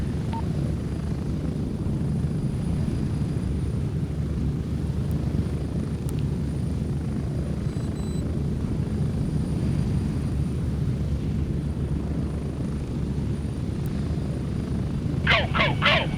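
A helicopter in the video game Gray Zone Warfare drones with a loud, steady rotor and engine rumble throughout, close and unbroken, with brief clicks near the end.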